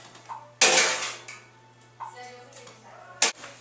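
A spoon scoops juices from pulled pork in a bowl, making a few sharp metallic scrapes and clinks between quieter moments, while someone talks.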